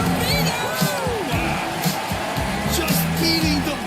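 Basketball video game crowd in NBA 2K25, a steady arena roar with scattered whoops and cheers under an announcer's commentary, plus occasional sneaker squeaks.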